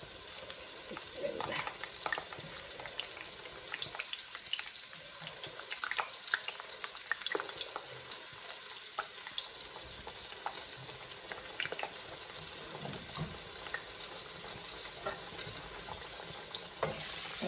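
Pitha cakes fry in hot oil for an iftar spread, a faint, steady crackling sizzle with scattered small pops and light clinks, running continuously at a low level with no voices.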